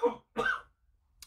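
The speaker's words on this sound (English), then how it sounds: "sorry about that, my brother was having a coughing fit." A person's coughing fit in two close bursts, the second longer and rougher with a tickly, throaty edge, followed by quiet and a faint breathy sound; near and fairly soft.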